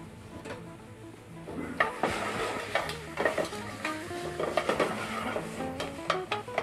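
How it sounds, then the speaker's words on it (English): Lobster shells are sautéed in a hot pan, giving a steady sizzle beneath clattering and scraping as the shells are stirred and tossed against the metal, close up and without talk. "The pan is hot. I'm going to add the lobster shells. All the shells."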